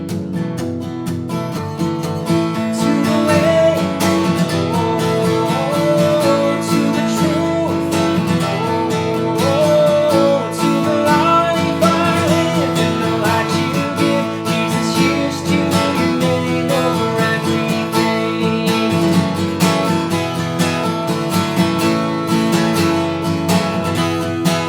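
Acoustic guitar plays the chorus of a worship song, steadily strummed with a full, continuous sound for about twenty-five seconds, instrumental with no voices.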